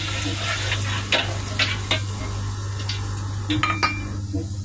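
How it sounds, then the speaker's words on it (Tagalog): Garlic frying in a pan with dried scallops gives a steady sizzle under repeated scraping and clinking of a utensil stirring against the pan, with no voices. "Lagay din natin yung bawang."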